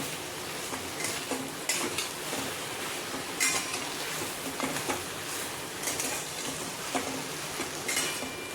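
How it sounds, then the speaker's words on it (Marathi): Ridge gourd slices sautéing in oil in a pan, a steady low sizzle with scattered stirring scrapes and utensil clinks, close and continuous with no speech. "आपण आता टाकूया दोडक्याचे काप आणि आपण हे सुद्धा छान असे तेलामध्ये परतून घेऊया"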